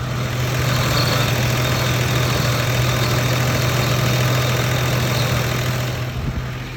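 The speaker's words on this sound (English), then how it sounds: "the power steering is making a tiny bit of noise on this cold start" A 1988 Toyota Land Cruiser FJ62 idles steadily on a cold start, a constant low engine hum joined by a faint, even whine from the power steering, close and continuous throughout.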